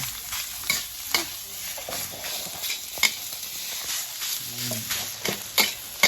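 Rice sizzles steadily in a hot wok as a spatula scrapes and tosses it in regular strokes, close and continuous.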